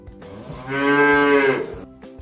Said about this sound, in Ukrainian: Так, це корова.